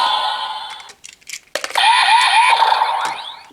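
A short electronic error tone from a Kamen Rider Vrastum Gear toy belt when a Gochizo is pressed with the lever raised: a few clicks, then a wobbling, bouncy synthesized sound.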